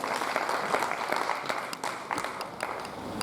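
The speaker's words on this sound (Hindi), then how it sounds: "आप उनका स्वागत करें ताली बजाकर।" A seated audience at a kavi sammelan, a Hindi poetry recital, claps steadily to welcome a comic poet, a dense and fairly loud wash of many hands held at an even level throughout.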